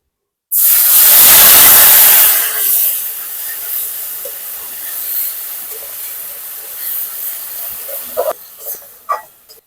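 Grated onion dropped into hot oil left from frying potatoes for a fish curry: a loud burst of hissing sizzle that settles into a softer, steady fry, with a few clinks of a utensil near the end.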